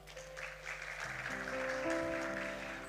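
A church audience claps together in a brief burst of applause that swells and fades, mixed with sustained instrumental music.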